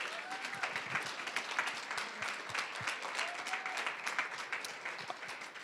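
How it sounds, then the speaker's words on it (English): Applause from a large audience at a Grand Rapids Community College scholars event for the college's faculty and staff, sustained and fairly distant, with sharp individual claps and some crowd voices through it. "Please give a round of applause to our GRCC family."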